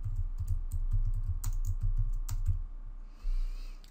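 Java code for a simple calculator being typed on a computer keyboard, a close, quick run of light uneven key clicks with a couple of sharper strokes, followed by a brief pause.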